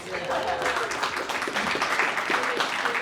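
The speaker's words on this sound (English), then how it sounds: "Maybe like, clap for the audience." Audience at a small arts concert in Northfield breaks into applause: a dense, fairly loud wash of hand claps lasting a few seconds, with voices talking over it.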